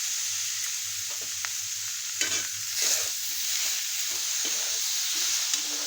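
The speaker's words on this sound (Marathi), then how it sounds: "हे 2 मिनिटं परतून घ्यायचं" A mushroom mixture sautés in a pan with salt and tomato: constant close sizzle with repeated spatula scrapes and stirring strokes scattered across several seconds, no talking.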